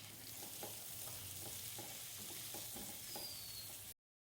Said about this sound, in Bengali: এবার সামান্য একটু লবণ আর সামান্য একটু হলুদ দিয়ে আমি আলুগুলোকে 2 মিনিটের জন্য ভেজে নেব।